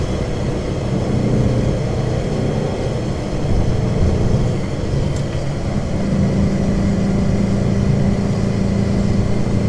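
Porsche 912 flat-four engine revving hard and held near redline in third gear on a mountain road, a loud steady droning roar with wind rushing through open windows, continuous and close.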